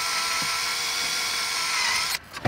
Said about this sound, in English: he's pretty much drilling into the holes that we already pre-established on each side and under.